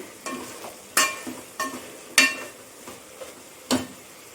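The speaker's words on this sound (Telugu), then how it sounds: "ముక్కలు ఇలా ఉడుకుతున్నాయి" Vegetable pieces cooking in a tempering with turmeric and salt for moong dal sambar, a soft sizzle broken by six sharp metal spoon scrapes and knocks against the pan at irregular intervals, close and fairly loud.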